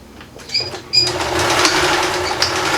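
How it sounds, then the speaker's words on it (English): A sewing machine runs a regular straight stitch through denim, starting with a couple of short bursts before settling into a steady, close whirring hum. "I'm gonna do it with just a regular stitch"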